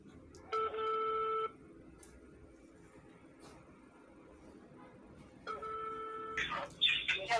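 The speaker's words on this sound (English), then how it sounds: "It's ringing." Telephone ringback tone on an outgoing call, two steady electronic rings about five seconds apart, moderately loud and clear over faint background noise, with a brief burst of sound at the end.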